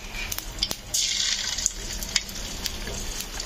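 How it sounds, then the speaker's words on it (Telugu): Carrot bajji slices frying in a shallow layer of hot oil over a medium flame: a steady close sizzle with a burst as pieces go in, plus occasional light clinks and stirring. "ఆయిల్ అయితే వేడెక్కిందండి, మీడియం ఫ్లేమ్లో పెట్టేసుకొని మనం ఇట్లా వేసేసుకోవాలి."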